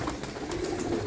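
A large flock of flying pigeons of several breeds, including khaki, golden and teddy types, coos softly and continuously at a breeder's loft, a faint, steady murmur with no talk.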